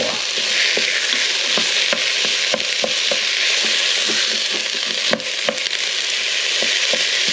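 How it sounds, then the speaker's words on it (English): Loud, continuous sizzling of minced meat frying in a hot Cosori 5.7-litre pressure cooker pot, with repeated scraping and stirring clicks throughout, close up and no talking. "You can actually hear how hot it is, can't you? Sizzling."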